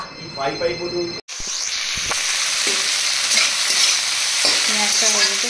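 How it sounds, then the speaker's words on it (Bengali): Vegetables with chicken, pumpkin and taro fry in a pan under a steady close sizzle, broken by scraping stirs. A voice talks briefly at the start and again near the end. "এখানে আনাজগুলো দিয়ে দিয়েছি, চিকেন দিয়ে, কুমড়ো, কচু দিয়ে ভালো করে নাড়বো"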